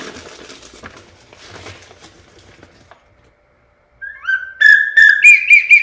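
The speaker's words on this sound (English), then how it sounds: "This is an older whistle. It's nice, big, bulbous." After a few seconds of faint rustling and then silence, an old, large, bulbous Iverson duck or goose call whistle sounds a shrill whistled call in several rising, warbling bursts, loud and close.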